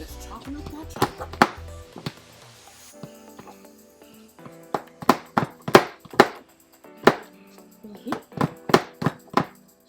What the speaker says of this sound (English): Just chopping up that chocolate.